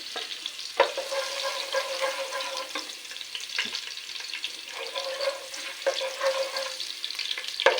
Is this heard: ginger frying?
yes